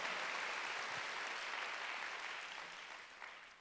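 A church congregation at a Wednesday worship service claps together in a dense, sustained round of applause that slowly fades toward the end.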